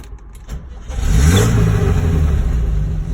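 A 1975 VW hightop camper bus engine cranks briefly, catches and fires up, then rises into a loud, close, rumbling idle that holds steady to the end.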